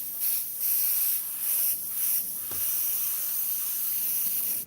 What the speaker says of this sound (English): you spray and you think you're going to spray out the color you just put in the cup and it's got dirt inside the airbrush still